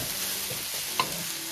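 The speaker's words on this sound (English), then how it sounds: "Add the rice." Shrimp fried rice stir-fried in a very hot pan, a soft continuous sizzle with a few light clinks and scrapes.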